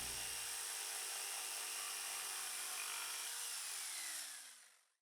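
A jigsaw cuts through pallet wood planks with a steady, loud, high buzzing that holds for several seconds. The motor then spins down and fades out at the end.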